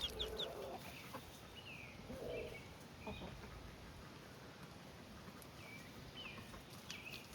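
Hens cluck softly in short scattered bursts over a steady outdoor hum, with a few higher squawks here and there.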